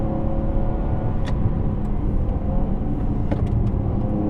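A 2017 Jaguar XE 35t R-Sport drives on, a steady low engine rumble and road drone running continuously throughout, with no talk over it.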